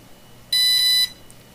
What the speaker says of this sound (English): Five single beeps.